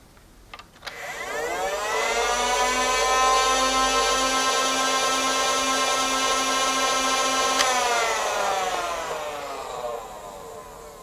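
A Nerf blaster with an orange trigger gives a sharp click, then its motors whine up into a loud, steady buzz for several seconds before spinning down and fading out, close by with no talking.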